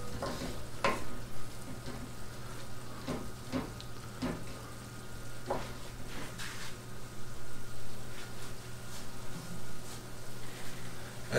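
Cuban picadillo of ground meat and olives sizzles steadily in a frying pan while a spoon stirs it, scraping and clinking against the pan at irregular intervals up close, with no talking.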